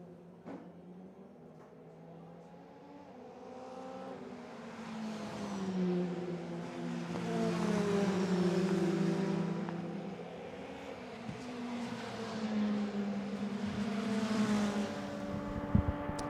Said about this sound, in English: So, cars heading their way through.